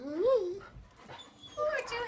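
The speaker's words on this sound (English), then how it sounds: "Poor two happy dogs." Two dogs at play give a whimpering yip and short whines near the listener, with a brief pause between, with a person's voice in the background.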